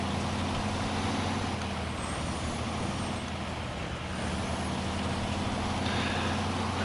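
A Kenworth T880 truck engine in the video game SnowRunner drones steadily and loudly for the whole stretch, a continuous low rumble with no break and no voices.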